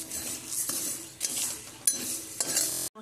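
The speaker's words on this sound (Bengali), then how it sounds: "এবার এটা শুকনো কড়াইয়ে নাড়াচাড়া করে নেব, একটু হালকা ব্রাউন করে ভেজে নেব" Whole spices, including cumin, are dry-roasted in a dry wok while a metal spatula scrapes and stirs, making repeated clinks and scrapes over a faint rustle before an abrupt stop.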